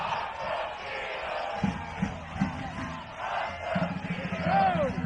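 A soccer crowd roused at a match: a mass of voices swells into shouts and chanting, with a few sharp calls and whistles rising above the roar, heard from within the stands.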